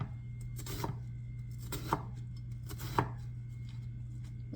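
Three separate knife chops on a cutting board, spaced about a second apart, slicing through a good-sized onion over a steady low background hum.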